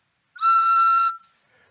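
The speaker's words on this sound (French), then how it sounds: "Pour un sifflet avec un son à peu près comme celui-ci" A lathe-turned wooden whistle gives one short, clear, piercing blast of under a second, close and loud, with a brief airy tail as the breath stops.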